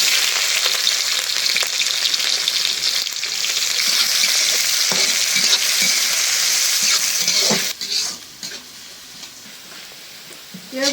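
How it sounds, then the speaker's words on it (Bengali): Onions sizzle steadily in a hot, thick kadai with cumin seeds, close and loud, with scraping stirs through the oil; the frying softens and thins out toward the end. "পেঁয়াজগুলো একদম বেস্তার মতো করে ভাজে নিছি"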